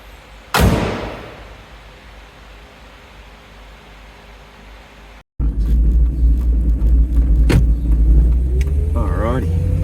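A Vauxhall VX car on the drive home after service and dyno prep for nitrous, with a sharp thump early on, then steady engine and road rumble close by, a pause, and people talking over the cabin noise.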